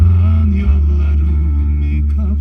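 Bass-heavy music plays steadily through the original cassette player of a 1990 Tofaş Şahin car, full and continuous, with a faint voice briefly underneath.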